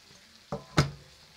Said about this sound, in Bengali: মশলার মধ্যে এঁচড়টা দিয়ে দিচ্ছি।